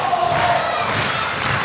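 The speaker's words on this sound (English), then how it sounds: "And the crowd are going wild here as Lycan gets to his feet" Indie wrestling crowd at a CCW Revolution show cheering loudly, a brief roaring swell of many voices with a thud and yells, close and dense.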